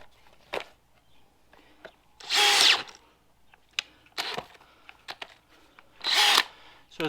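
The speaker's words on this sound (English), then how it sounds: "So as far as cordless drills go, this is a DeWalt 20 volt max XR." A DeWalt 20V Max XR cordless drill driving a splitting bit into firewood: short bursts of motor whine and wood cracking, separated by clicks and light handling noises.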